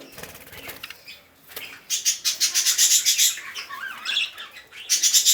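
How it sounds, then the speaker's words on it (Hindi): Budgerigars, including Holland and colour budgies, flap their wings in a flurry after release into a large cage, with bursts of fluttering and light chirps that rise and fall over several seconds. "चलिए इसको मैं बड़ा केज में छोड़ दूंगा जहाँ पे पहले से मेरा कुछ हॉलैंड बज्जिस, कलर बज्जिस है।"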